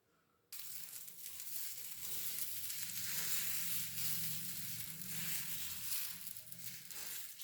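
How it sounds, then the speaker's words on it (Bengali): A dosa frying on a hot pan in lightly brushed oil over high to medium heat gives a steady, close, continuous sizzle and crackle that starts abruptly and holds at an even level, with no talking. "তারপরে হালকা হাতে তেল ব্রাশ করে হাই টু মিডিয়াম আঁচে এটি ভেজে নিতে হবে"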